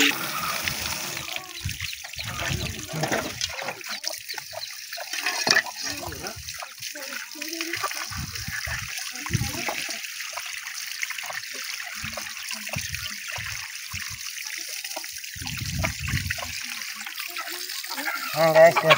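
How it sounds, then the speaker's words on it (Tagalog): Strong water flowing on a farm, a loud steady rush with trickling and splashing that runs continuously. "ito kalakas ang tubig dito sa bukid sa amin"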